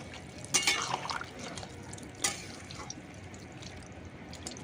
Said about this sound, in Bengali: এবারে আমি এতে দিয়ে দেবো আবার একটু জল